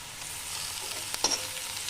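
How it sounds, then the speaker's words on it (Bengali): Ginger garlic paste sizzles in hot oil in a pan over previously fried onions and cumin, a steady quiet hiss with a brief scrape of stirring near the middle, no talk. "এরপরে আমি আদা রসুন বাটাটা দিয়ে দিচ্ছি"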